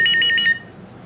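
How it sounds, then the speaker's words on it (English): A cell phone rings with an incoming call in a brake repair shop: a short burst of loud, bright, rapidly pulsed electronic ringing that stops abruptly about halfway, leaving a quiet room background. "there's a cell phone call that I don't know who this is"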